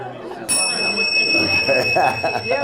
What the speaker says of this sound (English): Time's up. The bell rang, you guys.